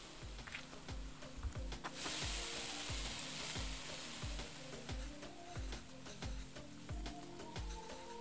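Garlic paste hits hot oil during cooking in the Venba video game, giving a loud, continuous sizzle with rhythmic stirring scrapes that repeat roughly twice a second, close and with no voices.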